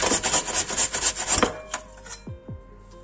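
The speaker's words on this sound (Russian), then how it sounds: "300 граммов картофеля натрите на крупной терке." Potatoes scraped down a coarse grater in a quick, even rhythm of about a dozen rasping strokes, close and fairly loud, then a few lighter clicks and knocks as the grating stops.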